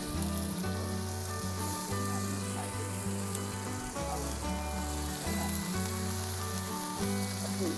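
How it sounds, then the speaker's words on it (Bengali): Fish heads and cabbage frying in a pan over a village cooking fire, giving a dense continuous sizzle. A low droning hum runs underneath throughout. "আমি আগে মাছের মাথাগুলো দিয়ে দিলাম তারপরে দিয়ে দিলাম বাঁধাকপি"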